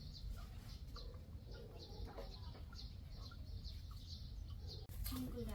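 Chickens on a rural homestead, faint scattered clucks and chirps over a low background rumble, with a brief thump near the end.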